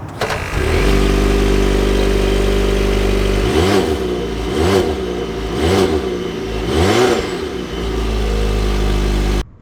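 A 2021 Volvo XC90 T8 Recharge plug-in hybrid engine starts, settles into a steady hum, then rises and falls in four distinct revving surges before cutting off abruptly, heard up close.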